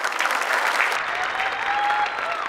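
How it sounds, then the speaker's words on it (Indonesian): Audience applause at a magic audition on Indonesia's Got Talent, a dense sustained clapping from a large crowd that carries on steadily. "Tepuk tangan untuk Ken dulu biar dia semangat."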